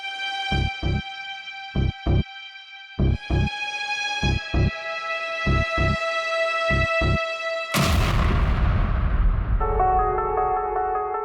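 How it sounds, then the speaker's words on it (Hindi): A run of electronic beeping tones, then a sudden loud burst of a laptop exploding that fades quickly and leaves a steady tone. "धमाका"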